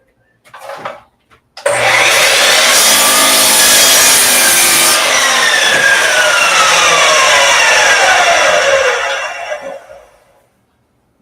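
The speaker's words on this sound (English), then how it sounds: "We'll run the miter saw." A miter saw spins up after a couple of brief knocks, then bites through wood in one loud, close cut lasting several seconds before the blade winds down to silence.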